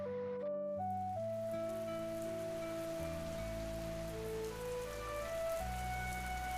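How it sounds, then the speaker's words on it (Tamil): Steady rain falls beside a field at night, a continuous even hiss that runs throughout under sustained musical tones. "அப்பொழுது அந்த வயல் ஓரத்துல சத்தத்துடன் மழை பெய்கிறது"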